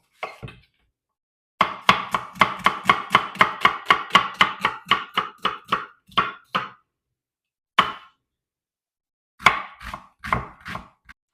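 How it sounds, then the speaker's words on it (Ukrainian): A knife chops an onion rapidly on a cutting board in a fast, even run of sharp knocks, then pauses and resumes with a few scattered cuts, close and clear. "І поки олійка розігрівається, наріжу цибульку."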